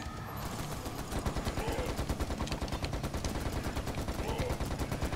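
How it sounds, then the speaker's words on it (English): Sustained rapid gunfire aimed at the king scorpion in the video game I Hate Running Backwards, with a steady rattling stream of shots that holds loud and even throughout. "So I got to shoot at the king scorpion."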